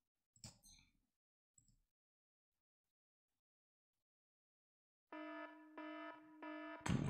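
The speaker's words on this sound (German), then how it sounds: "das ist ein Wecker, zu dem ich nicht aufstehen will" An alarm clock rings with loud, harmonic electronic beeps in three pulsed bursts after a mostly quiet stretch, with a couple of brief faint noises near the start.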